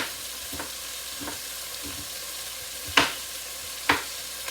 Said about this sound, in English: I have another half a piece of onion here I'm going to put in.